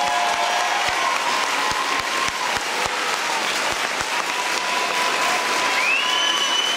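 Audience at an anti-vivisection talk breaking into sustained applause, a loud continuous wash of clapping with a few sharp individual claps and a faint tone near the end.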